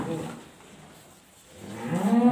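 Cattle in a butcher's holding pen give a moderately loud, drawn-out moo near the end, after quieter low pen noise, with no one talking.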